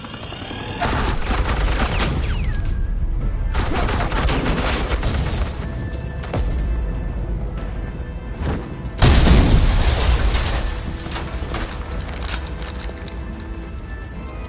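Sustained gunfire in Batman: The Enemy Within, laid down as suppressing fire, with dense bursts of rapid shots and a heavy boom partway through, loud and close, under a busy battle din.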